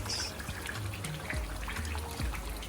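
Water trickles and pours into a pot of prawn and goat meat stew, a soft, faint liquid splashing with a few small drips close up.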